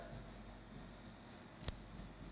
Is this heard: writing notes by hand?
yes